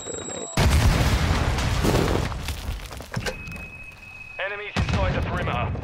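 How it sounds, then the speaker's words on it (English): Call of Duty Modern Warfare ranked match: a sudden loud grenade blast and rolling gunfire crash in, then fade into sporadic shots and clatter, with a voice talking partway through. "I just threw a nade."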